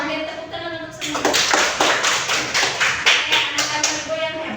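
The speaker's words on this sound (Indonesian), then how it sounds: "Oke, tepuk tangan untuk semua." A class of children clapping their hands together, a dense burst of many palms lasting several seconds at fairly close range, after a teacher's voice before it starts.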